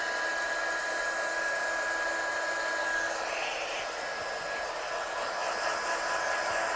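A heat tool blows hot air to set stamped ink on cards, a steady close whooshing fan roar with a thin high whine, constant and unbroken for the whole stretch with no talking.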